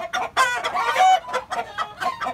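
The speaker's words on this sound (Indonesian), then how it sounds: "ini ayam kate" Bantam chickens clucking up close on a chicken farm, a quick run of loud, throaty clucks and squawks in an uneven rhythm, with no voices.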